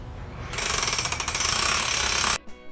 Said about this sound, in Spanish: Con eso se tiene que poner un chip hammer